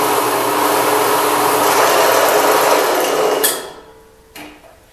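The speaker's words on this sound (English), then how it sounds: "While this saw is running, cutting off this plate" A power saw cuts through quarter-inch steel plate in a workshop, a loud, steady grinding whine that holds for several seconds, then winds down abruptly, followed by a brief metallic clunk.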